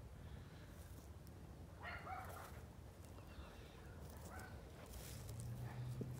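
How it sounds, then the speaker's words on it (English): Dogs barking in the distance behind a wooded residential lot with cedar trees, faint scattered barks and yips under a soft outdoor background. "I do hear some dogs barking back behind me there."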